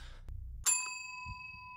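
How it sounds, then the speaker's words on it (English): A single clear bell in the horror video game Suite 776 strikes once with a sharp metallic ding, its pure ringing tones sustaining and slowly fading, with faint low rustling before and after. "Do you reckon she's telling me to ring the fucking bell?"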